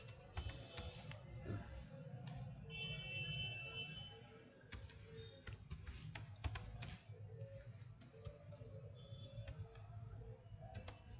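Steady, quiet tapping on a computer keyboard while an online application form is filled in, with irregular clusters of keystrokes over a low background hum.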